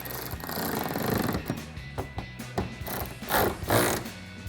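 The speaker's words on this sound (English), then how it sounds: "take a 13mm socket and tighten them down" Socket wrench work on a 2008-2023 Dodge Challenger, tightening the factory hood latch bolts with a 13mm socket: faint, close ratcheting clicks and tool knocks in short irregular bursts, no talking.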